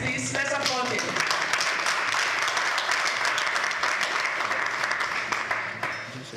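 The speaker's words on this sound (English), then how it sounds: "let's applaud him" Audience applause at a Lagos State event honouring an entrepreneur, sustained crowd clapping with a voice briefly heard at the start, steady and full before tapering slightly at the end.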